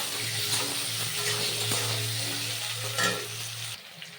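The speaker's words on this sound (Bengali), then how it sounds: "আলুগুলো হালকা লাল লাল ভাজা হয়ে গেছে" Potato pieces fry in hot oil in a pan with salt and turmeric, giving a steady close sizzle broken by a few scraping stirs of a spoon.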